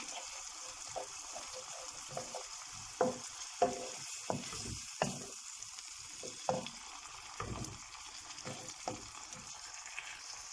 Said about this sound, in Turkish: salçayı da içerisinde eziyorum ve kavrulmasını sağlıyorum